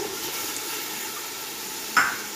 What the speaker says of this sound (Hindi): चलें अब इसमें टमाटर डाल दें।